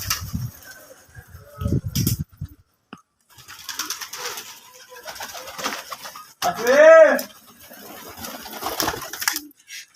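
Pigeons in a village loft, with scattered soft calls and fluttering amid mechanical clicking, and one clear harmonic coo or call standing out near the middle, with quieter activity around it.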